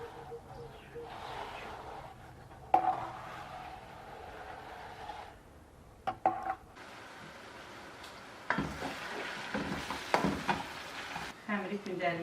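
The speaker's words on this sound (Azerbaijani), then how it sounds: "Soğana yağ töküp qovururuz." Onion frying in oil for Azerbaijani khinkal, a soft sizzle that runs steadily and swells into louder, crackling bursts of stirring near the end.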